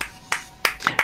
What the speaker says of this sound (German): dass da 8 Praktikanten nur im Raum stehen, aber frenetisch Applaus spenden, als Mike Pence hereintritt